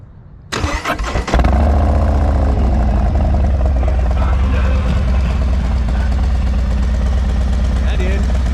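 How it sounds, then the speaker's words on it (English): A motorcycle fitted with a Feuling 2-into-1 exhaust and BA air cleaner cranks over, catches after a second and settles into a loud, steady, throaty idle, close by. "we want to show you a little startup real quick"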